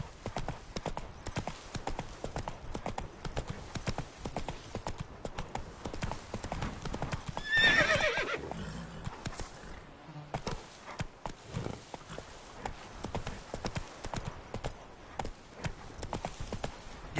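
Hoof clip-clop from the horse Roach galloping in The Witcher 3, a fast rhythmic stream of hoofbeats throughout with a brief neigh midway, loud and close.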